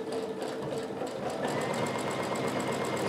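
Sewing machine stitching through several thick layers of fabric at a long 3.0 stitch length, a steady close whirring hum with rapid even needle pulses running throughout without pause.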